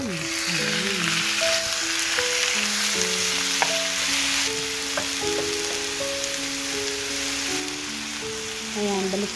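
Chicken sizzling in a pan with garlic and onion for chicken adobo, a loud continuous frying crackle with occasional stirring, under background music.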